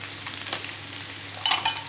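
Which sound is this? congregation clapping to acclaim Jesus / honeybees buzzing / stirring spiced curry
stirring spiced curry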